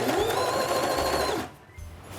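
Sewing machine stitching curved apple core patchwork pieces together, a steady close rapid whirring run that stops abruptly partway, leaving faint room noise.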